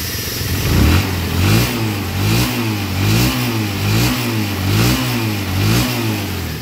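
Motorcycle engine freshly repaired in a workshop, revved steadily in repeated rising and falling pulses, loud and close, about six swells of throttle over a continuous running drone, no talk.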